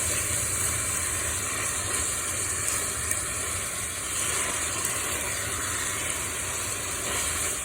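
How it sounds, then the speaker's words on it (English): Ground beef and onions frying together in a pan on moderate heat, a steady close hiss and sizzle holding even throughout with no talking. "beef together with the onions nicely on a moderate heat so that it cooks very, very well and there's no pink in it"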